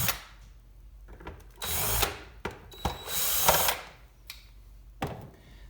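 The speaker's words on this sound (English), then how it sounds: "Got my drill, and I'll remove the two screws." A cordless drill spins in short bursts close by, whirring loudly then stopping, with faint clicks and handling noises between the runs.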